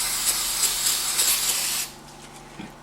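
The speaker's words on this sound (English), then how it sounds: "you can spray it with brake clean, and we'll give it a shot." Brake cleaner hisses from an aerosol can onto Ski-Doo REV snowmobile clutch parts, a steady close spray for about two seconds that stops abruptly, followed by faint handling noise.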